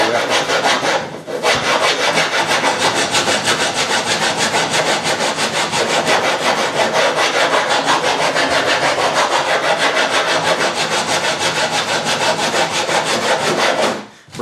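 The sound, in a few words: hand rasp filing wood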